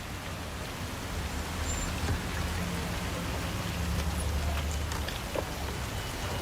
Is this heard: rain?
yes